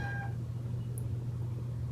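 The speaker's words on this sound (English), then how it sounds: "Oh, that might have been my kitten." A kitten gives a single short meow right at the start, fairly faint over a steady low background hum.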